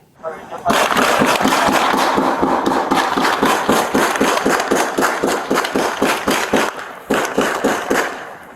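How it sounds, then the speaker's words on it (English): Rapid bursts of gunfire from a suspect inside an apartment, a long string of sharp, evenly spaced cracks that are loud and continuous for several seconds before briefly pausing and resuming. "Audio of the suspect shooting can be heard in this video."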